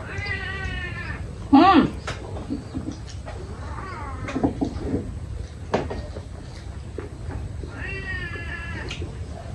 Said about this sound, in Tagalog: Loko talagang pusa na to.